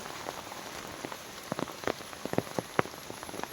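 Steady monsoon rain falling hard, a dense hiss of water with sharper drops splattering now and then on a nearby surface.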